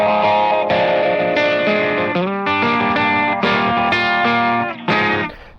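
Electric guitar chords ring through a Donner Embark 03 phaser pedal set to a moderate position, with a sweeping, swirling tone over several sustained strums, loud and close with no voices.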